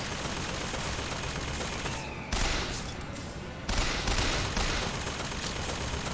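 Dense, loud gunfire from the video game BioShock Infinite rattles on without pause, with overlapping bursts and sharp shots forming a continuous barrage throughout.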